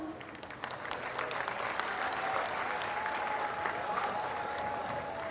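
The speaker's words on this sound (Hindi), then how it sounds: "बजाओ तालियां, बजाओ बजाओ, फटाफट बजाओ" Audience applause at a Hindi kavi sammelan poetry recital, a steady, fairly distant wash of many hands clapping that carries on for several seconds, with a faint tonal voice or instrument line running beneath it.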